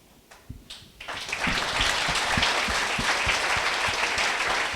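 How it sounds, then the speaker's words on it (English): Audience at a Wrexham football club event breaks into clapping, starting with a few scattered claps and quickly swelling into full, steady applause that continues loudly to the end. "That's a clap, not a boo."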